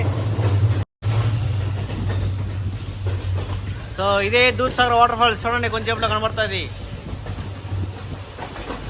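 A train on the Goa to Dudhsagar Falls line rolls out of a tunnel with a loud steady rumble and hiss. Someone talks over it in the middle, and the track noise continues under his voice.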